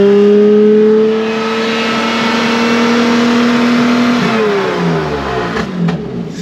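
A BMW E46 Touring's engine revs hard and steadily up close, holding a high pitch before the revs drop away near the end.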